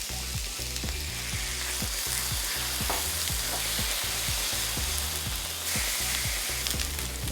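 Thin-sliced Wagyu beef sizzling in a pan with sukiyaki sauce, a loud continuous frying hiss with repeated clinks and scrapes of stirring utensils against the pan.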